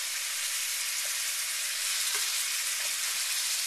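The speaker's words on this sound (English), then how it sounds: "Gonna go ahead and add in our onion there." Onion hitting a hot pan for chicken fajitas, giving a steady, bright, close sizzle that holds evenly, with only a few faint clicks of movement.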